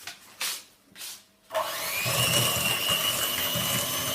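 Electric mixer whirring steadily as it beats churros batter with egg, starting after a few brief soft noises and holding a loud, continuous motor drone to the end.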